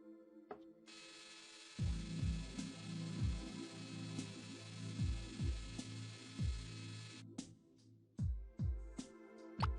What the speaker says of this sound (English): I might be able to use the lathe to grind the coffee beans.